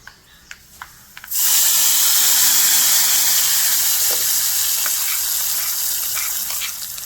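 After a few light taps, a sudden loud sizzling hiss erupts as hot tempering oil is poured into a pot of jackfruit seed, mango and drumstick curry, roaring steadily and then slowly easing off.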